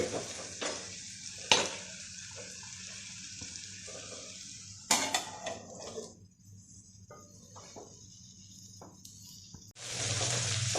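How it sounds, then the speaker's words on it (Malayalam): Choora fish pirattu, with no water added, cooks under a covering vessel on a low flame, giving a steady soft sizzle broken by occasional metal clinks and scrapes of pan and lid. "ഇനി നമുക്ക് 10 മിനിറ്റ് ചെറുതീയിൽ ഇതിനെ ഒരു പാത്രം കൊണ്ട് മൂടി അടച്ചു വെച്ച് വേവിക്കാം"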